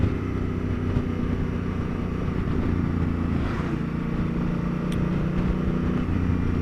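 A Honda Africa Twin motorcycle is ridden along, its engine a steady low droning rumble with wind noise throughout, heard close and loud without any talk.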